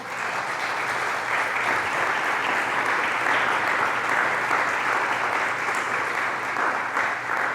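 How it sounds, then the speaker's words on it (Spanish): A church congregation claps for the King during a Spanish-language sermon, producing a dense, steady wash of applause that holds at an even, loud level for several seconds, with no speech on top. "¿Cuánto le rinde palmas al Rey?"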